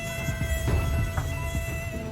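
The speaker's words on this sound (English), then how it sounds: "The mosquito, which Potion calls Mosquito Single Annoying Noise" A lone mosquito buzzes in a thin, steady high-pitched whine that wavers slightly in pitch, close and isolated against a quiet background.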